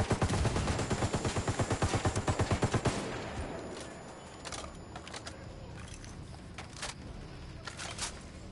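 Gunfire in the video game Ghost Recon Wildlands: a rapid burst of automatic shots for about three seconds, then scattered single shots and distant pops against a low background.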